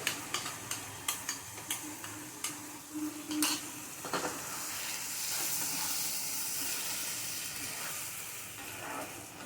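Spinach paste sautés with mushroom rice in a pan: a run of sharp spatula scrapes and taps on the pan gives way to a steady, soft sizzle and hiss of frying, close by.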